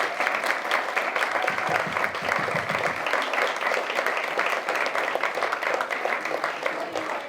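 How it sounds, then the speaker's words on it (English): A room full of people at a closing session claps hard and continuously, a thick, even wash of applause that holds for the full seven seconds without letting up. "Give them a huge clap."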